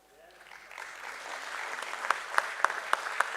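Audience applause at a company listing ceremony at the BSE swells from quiet into steady clapping, with a few sharp, close claps standing out toward the end.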